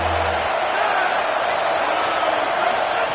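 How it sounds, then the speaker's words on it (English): A football stadium crowd roars and cheers as it rises to support its defense, a dense, sustained wall of loud crowd noise throughout. "This crowd rising up, sensing that its defense needs some help."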